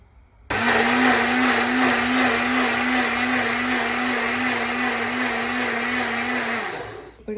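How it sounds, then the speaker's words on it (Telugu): An electric blender grinds avocado into juice, a loud steady whirring motor that starts abruptly, holds for about six seconds and then winds down. "నెక్స్ట్ స్టెప్ అంటే ఏంటంటే దాన్ని గ్రైండ్ చేసుకొని జ్యూస్ చేసుకొని తాగేసేయాలి"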